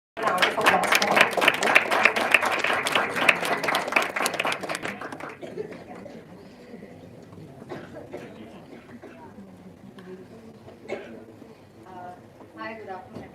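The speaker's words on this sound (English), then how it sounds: "Round of applause for her." Audience applause at a youth talk event, dense clapping for about five seconds that then fades into a murmuring room with scattered coughs.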